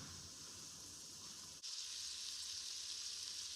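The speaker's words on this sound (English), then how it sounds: "The Conecuh sausage, it's really frying up really nicely." Conecuh Cajun smoked sausage sizzles as it fries in an Instant Pot, a steady close crackling hiss that briefly dips, then returns slightly louder; no talk.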